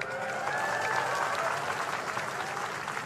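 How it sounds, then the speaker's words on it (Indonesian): A crowd applauds at an official ceremony honouring young participants, with continuous, dense clapping held steady throughout, fairly loud and close, while a faint voice carries over it. "Tepuk tangan semuanya, keren."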